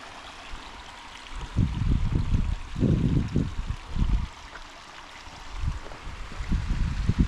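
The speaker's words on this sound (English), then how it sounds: "It's like there's some little waterfalls." A stream runs over small waterfalls, a steady rushing flow with uneven low gurgles and splashes rising and falling throughout.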